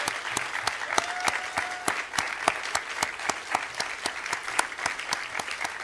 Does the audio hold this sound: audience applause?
yes